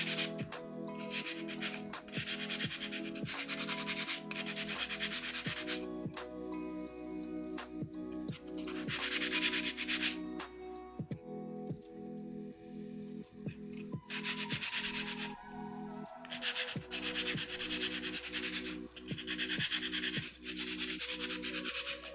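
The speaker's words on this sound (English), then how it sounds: "I am sanding sanders because if you don't sand them, the edges are really sharp" Sanders are rubbed by hand to smooth their sharp edges, a repeated scratchy back-and-forth abrasion in bursts with short pauses, close and fairly loud, no voices.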